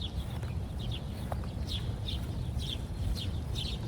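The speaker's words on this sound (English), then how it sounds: "A lot of birds in this park." Small birds chirp in short repeated bursts across a park in Great Neck. The calls are moderately near but faint over a constant low rumble of outdoor background noise.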